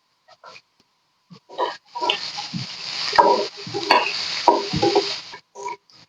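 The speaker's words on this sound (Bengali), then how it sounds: "এখন আমি এই তেলেই আলু এবং কাঁকরোল গুলো ভেজে নিচ্ছি।" Potatoes and spiny gourd (kakrol) fry in oil with a little salt, giving a steady sizzle broken by stirring scrapes and clinks of a utensil against the pan, with no talking.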